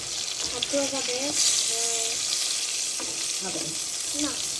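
Eggplant sizzles and crackles steadily in a hot pan, close by, while a voice speaks intermittently over the frying.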